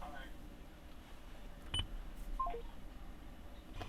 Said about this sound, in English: So I can also call and dial numbers from here.